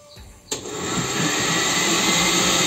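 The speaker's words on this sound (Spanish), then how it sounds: "Vamos acá a licuar esto." Countertop blender starting up with a sharp click and rising into a loud, steady whir as it blends cream, salt and water for a shrimp spaghetti sauce.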